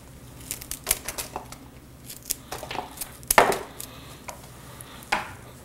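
Scissors or shears snip flower stems, alstroemeria among them, for a vase arrangement: a series of short, sharp crisp cuts at irregular intervals, close by, with faint background rustle.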